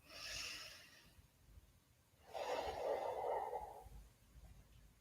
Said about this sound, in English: nice big inhale and nice big exhale